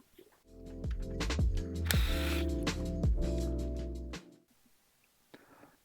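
A Commander Mini scooter's battery pack is unfastened from the wheel, with close, loud mechanical clicking and ratcheting screwdriver turns in quick bursts, a short whirring stretch, then quiet.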